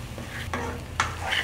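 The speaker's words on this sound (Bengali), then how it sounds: "আর পাস্তাটা দিয়ে আমি ভালো করে এই মশলার সাথে মিশিয়ে নিচ্ছি।" Boiled pasta being stirred and tossed with spices and vegetables in a frying pan, giving a soft sizzle with a few scraping utensil strokes, close and steady with no talking.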